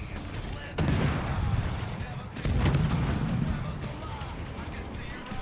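Naval guns fire in the World of Warships game as a battleship engages a King George at long range, two heavy booming salvos rolling out close together amid a sustained low rumble of battle.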